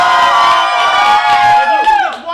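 A loud studio crowd at a game show cheers and yells in a vote for a contestant, a dense wall of voices that holds, then thins out toward the end.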